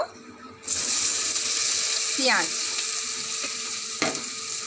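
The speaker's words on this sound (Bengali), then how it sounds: "পেঁয়াজটা একটু ভেজে নেব।" Chopped onions drop into hot oil with bay leaf, dried chilli and garam masala, bursting into a loud, steady close sizzle with a few scraping stirs along the way.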